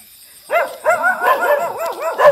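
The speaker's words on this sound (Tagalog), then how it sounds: "Ayan, gito yung mga aso." Several dogs bark in quick, uneven bursts at close to moderate range along a walk home outdoors, with some yips mixed in and no talking.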